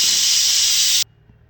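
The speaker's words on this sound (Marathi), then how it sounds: "आता इथे मी 3 शिट्टी घेत आहे कुकरची" A pressure cooker whistle releases steam while vegetable pulao cooks, a loud, close, sharp hiss that holds steadily for about a second before cutting off abruptly into quiet.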